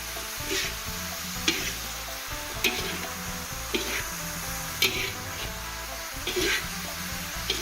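Mun river fish being stir-fried for spicy pad cha, a close sizzle with repeated scraping strokes of a spatula against the pan at a steady pace.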